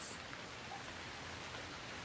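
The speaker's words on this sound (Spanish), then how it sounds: "en cuanto empezó a llover y cayeron los relámpagos" Steady video-game rain hisses evenly and softly throughout, a continuous wash of falling drops with no clear thunder crack and no voices.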